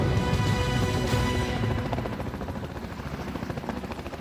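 Black Hawk military helicopter hovering overhead while providing cover at a landing zone, a loud, steady rotor-and-turbine roar with rhythmic blade chop that eases slightly after a sharp crash near the start.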